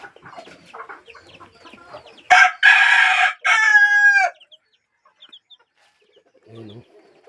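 Backyard chickens with young chicks: a loud, close rooster crow in two long bursts, preceded and followed by soft scattered clucks and peeps.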